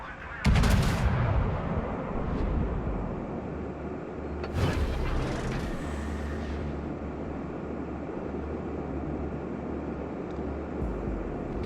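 Main guns of the German battleship Anhalt fire in a naval combat video game: two heavy booming salvos, one near the start and one a few seconds later, each trailing into a rumbling roar over a continuous engine and sea drone.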